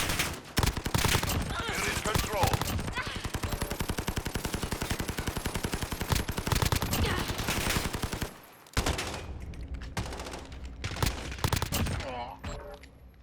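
Sustained rapid gunfire in Call of Duty Modern Warfare, a fast rattling stream of close shots that runs for several seconds, breaks briefly, then returns as scattered shots, with a voice talking over it.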